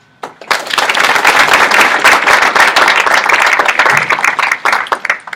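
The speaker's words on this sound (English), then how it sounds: "let's give one more round of applause to all of our business" Sustained audience applause at an honors society induction ceremony, a dense wash of many hands clapping that swells quickly, holds steady for several seconds, then thins into scattered claps.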